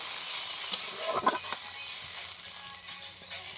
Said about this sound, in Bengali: এবার একটু জল দিয়ে দিব, বেশি জল দিব না